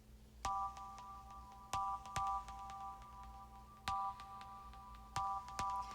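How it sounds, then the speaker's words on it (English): Moon Pluck preset on the Vital synth playing bright plucked notes in short chord stabs with quick decays, spaced irregularly over a soft sustained tone, clean and moderately quiet. "The Moon Pluck preset from Millisonics."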